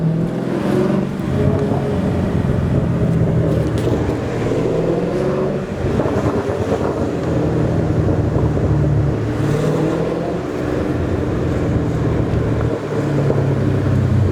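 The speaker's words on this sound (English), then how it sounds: "I'm sure you guys hear that, don't you? The burbles" Mustang exhaust burbling and rumbling in a low, steady drone for the whole stretch, with wind buffeting the microphone and no voices.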